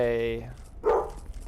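A dog gives a sharp bark, with a tonal whine just before it. The barking is aimed at an ice cream truck and is short and close.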